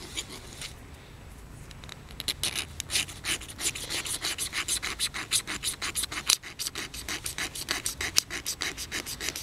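A hacksaw blade shaves a magnesium fire-starter block in quick, rhythmic rasping scrapes, close and fairly loud, speeding into a steady back-and-forth scratching after a softer start.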